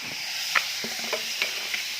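Onion fries in a pan as the base for cooked greens, giving a faint, steady sizzle with a few soft scrapes and clinks of stirring.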